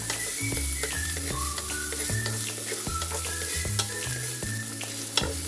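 Chopped white onion sizzles steadily in a hot pan, with a continuous frying hiss and repeated clacks and scrapes of a utensil stirring, no voices.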